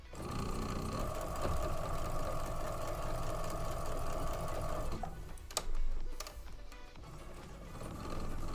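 Sewing machine stitching a poinsettia table runner, a steady continuous mechanical whir for about five seconds, then halting with a few clicks and clunks before a softer hum resumes.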